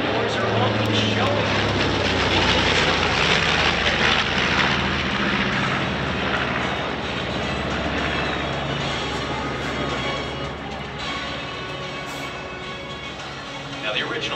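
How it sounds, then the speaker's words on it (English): B-25J Panchito, a twin-engine WWII bomber, flying past at an air show, a loud sustained piston-engine and propeller roar swelling then slowly easing, with a public-address announcer talking over it. "Watch now from the left as Panchito comes back in."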